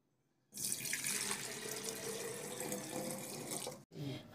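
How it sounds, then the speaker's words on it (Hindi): Cold water poured into a container at home to make detox water: a steady rushing stream runs for about three seconds, breaks off for a moment, then starts again, close and fairly loud, with no talk. "हम यहाँ पे ठंडा पानी ले लिए हैं"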